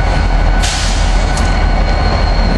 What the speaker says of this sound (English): And we got some locomotives here.